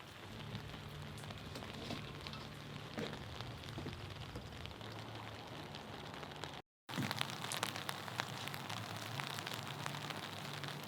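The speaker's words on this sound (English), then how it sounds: "I think this is rain." Steady rain falling by a lake, a dense even hiss of drops on surfaces with no voices, broken by a brief silent gap midway before resuming slightly louder.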